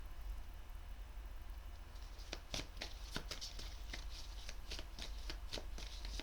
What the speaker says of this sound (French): Je vais prendre une dernière carte